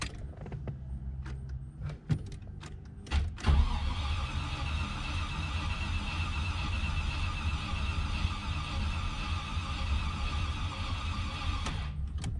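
A Land Rover Discovery engine is cranked but does not catch: a few sharp clicks and knocks at first, then a continuous close starter whir for about nine seconds before it cuts off.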